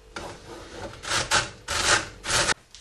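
Cauliflower is pushed across a kitchen grater in several short rasping strokes, each a close, scratchy burst with brief gaps between, with no talking.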